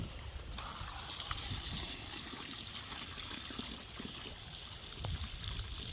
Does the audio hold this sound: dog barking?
no